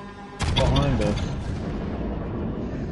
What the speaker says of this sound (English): I like the sound of those guns.